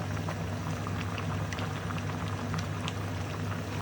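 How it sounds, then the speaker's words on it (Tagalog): Chicken adobo boiling in a pot, a steady, close bubbling and popping with a low simmering rumble underneath, continuous throughout with no talking. "Kulo na po yan."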